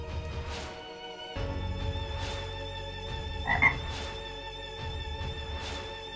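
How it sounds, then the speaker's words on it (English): A frog in the Final Fantasy 9 video game croaks in repeated loud bursts over a sustained tonal musical backdrop, about five calls spaced roughly a second and a half apart. "What a freak. This frog can speak."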